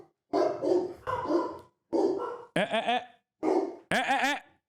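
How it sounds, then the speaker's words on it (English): A dog barks six times in close, loud bursts, with short pauses between, some barks higher and more strained. "Stop barking."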